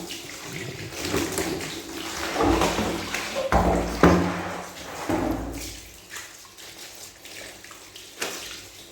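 Clothes are sloshed and scrubbed by hand in a tub of clean water, with repeated splashes, wet slaps and occasional knocks.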